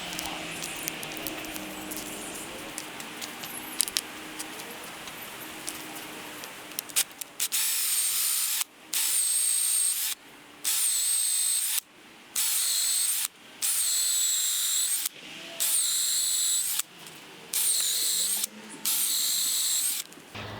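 A power drill boring holes into an oak log with a 5/16 bit for shiitake mushroom inoculation, with quiet handling noises first, then seven loud whining bursts in a regular rhythm separated by short pauses.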